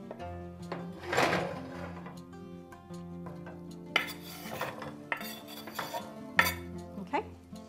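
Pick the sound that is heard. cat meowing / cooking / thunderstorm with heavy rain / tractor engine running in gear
cooking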